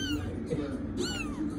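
A kitten meows twice in a row, close and clear, each call a rising-falling cry over a low steady background hum.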